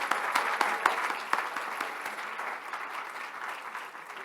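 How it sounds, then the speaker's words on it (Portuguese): Audience applause at a health-service congress in Évora: a dense patter of clapping from a seated crowd, strongest at the start and slowly thinning, with a few sharper individual claps standing out. "acho que devemos dar aplauso"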